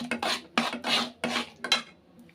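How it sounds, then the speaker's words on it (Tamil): Spoon stirring a rice flour and coconut mixture in a pot, a series of about five or six scraping, clinking strokes in uneven rhythm, close and fairly quiet, with no talk. "இப்போ நல்லா மிக்ஸ் பண்ணிக்கலாம்"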